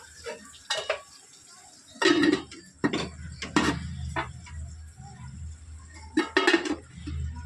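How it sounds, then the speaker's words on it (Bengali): Cooking pot being covered with its lid during a home cooking session with hilsa fish: several close metallic clanks and scrapes of the lid, with quieter rattling between them. "তো চলো এবারে এটা আমি ঢাকা দিয়ে দেবো"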